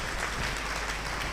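A church congregation claps during a sermon, a brief burst of steady, dense applause heard fairly faint.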